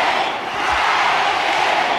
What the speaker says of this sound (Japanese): 場外ものすごい大歓声に包まれました。